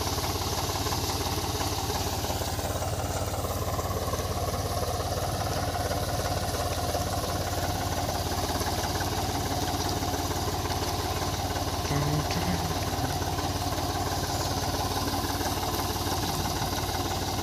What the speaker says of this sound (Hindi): हाई के फर्स्ट गियर में चल रहा है ट्रैक्टर